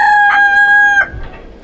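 A rooster in a backyard chicken coop gives one loud, close crow lasting about a second. A couple of short, softer clucks follow as the call cuts off.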